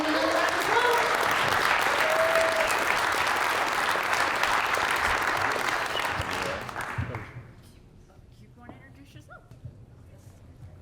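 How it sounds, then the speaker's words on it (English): A crowd at a pitch competition applauds loudly and steadily for several seconds, then the clapping thins and fades into quieter room noise. "Let's give him another round of applause."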